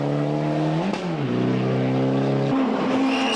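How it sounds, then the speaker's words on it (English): A Subaru Impreza rally car at the 1997 Ypres Rally drives past, its engine note loud and near, pitch dropping as it passes, then rising again as it accelerates away with a gear change. "And here's yet another one of those Subaru Imprezas."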